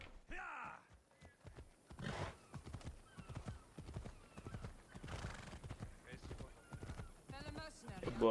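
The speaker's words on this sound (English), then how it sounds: "Let's get our fire horse." In Assassin's Creed Odyssey, a fire horse neighs once at the start, then hooves clip-clop steadily under someone talking throughout.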